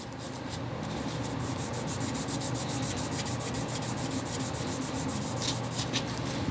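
Steady, continuous rasping of a diesel injector part for a 7.3 Power Stroke being sanded on a flat surface, close and even in level with a fast scratchy back-and-forth texture throughout.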